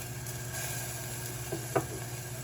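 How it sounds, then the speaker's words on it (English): Chopped garlic sautéing in a pan for spinach dip gives a faint, steady sizzle, with a couple of soft utensil clicks near the end and no talk. "I'm going to put a little bit of this garlic and I'm going to let this saute"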